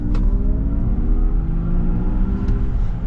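A 2024 Honda Prologue Elite AWD electric car accelerates in sport mode, its steady motor whine climbing in pitch over a low road rumble inside the cabin.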